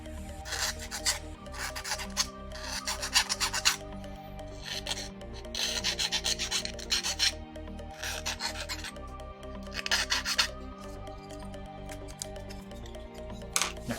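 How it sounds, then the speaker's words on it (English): A Dremel rotary tool grinds into a Razer Viper mouse shell in repeated harsh, raspy bursts of a few seconds each, close up, with a steady motor whine between passes. "assume you don't want to listen to the Dremel, so I shall mute"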